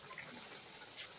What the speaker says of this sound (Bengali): প্রতিটা তেলে ফ্রাই করে নিচ্ছি।